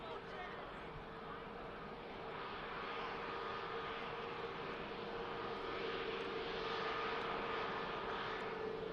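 An airliner landing at Manchester Airport gives a steady, broad engine roar that swells gently and holds throughout, with no voices.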